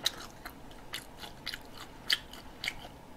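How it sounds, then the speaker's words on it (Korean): Crispy fried food such as shrimp tempura is bitten and chewed up close, with sharp crunches repeating about every half second over quiet background. "와, 진짜 바삭바삭거린다."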